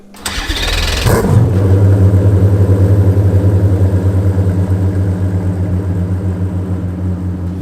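A Koenigsegg Jesko supercar engine on a test setup cranks and fires, then settles into a loud, steady idle with light throttle blips. It sounds close and strong, with no talking over it.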